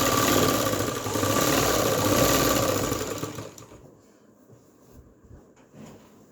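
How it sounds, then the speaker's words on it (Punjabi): A sewing machine stitches a salwar in a steady, fast, close run lasting about three seconds, then stops, leaving a few faint handling clicks. "ਹੁਣ ਆਪਾਂ ਸਲਾਈ ਲਾ ਦੇਣੀ"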